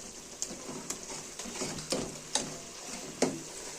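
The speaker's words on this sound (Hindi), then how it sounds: "अब इसमें मैं डालूंगी पालक" Spinach going into a pan of spiced masala cooked in mustard oil, giving a soft steady sizzle with a few sharp clacks of stirring, no voices.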